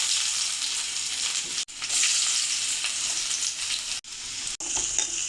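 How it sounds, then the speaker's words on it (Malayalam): Ginger and garlic fry in hot oil with popped mustard seeds, a close, loud sizzling hiss with stirring, broken by a few sharp momentary cutoffs, and nobody speaking. "കടുക് പൊട്ടി വന്നിട്ടുണ്ട് ഇഞ്ചിയും വെളുത്തുള്ളി ഇട്ട് കൊടുക്കാം"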